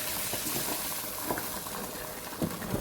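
Masala being fried with lamb trotters in a pan gives a steady, close sizzle with light stirring scrapes and small crackling bursts throughout, no voices.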